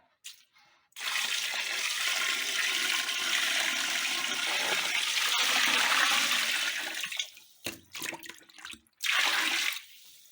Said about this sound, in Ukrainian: І тепер виливаємо наш маринад.